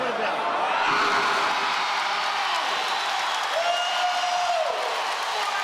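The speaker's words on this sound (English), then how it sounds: "Well, the crowd's going wild." Arena crowd at a professional NBL basketball game, NZ Breakers v Cairns Taipans in Cairns, roaring and applauding in a dense, sustained wall of noise, with one shrill whistle-like whoop rising above it.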